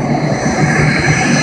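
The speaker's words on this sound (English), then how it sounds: "now the clutch engages and the rotor starts spinning" An Aérospatiale Lama helicopter on a cold day, its clutch engaging and the rotor starting to spin, with a three-bladed tail rotor; a loud, steady turbine and rotor roar runs close and unbroken throughout, with no one talking.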